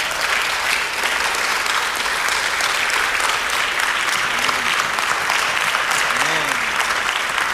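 A Spanish-speaking church congregation claps in worship, producing a loud, steady roar of applause. A voice rises briefly beneath the clapping.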